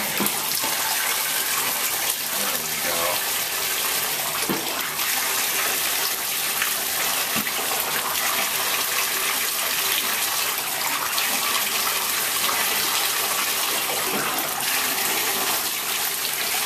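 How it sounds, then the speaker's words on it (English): Warm water pours continuously over a chocolate Labrador during a bath, a loud, steady rushing and splashing that runs unbroken with no voices over it. "Well, now that you poured the water on her."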